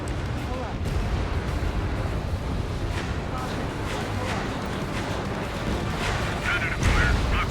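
Explosions of destroyed targets in Ace Combat 7 while attacking facilities around a harbor, a dense rumbling wash of booms and blasts with sharper bursts near the end. Radio voices talk over it.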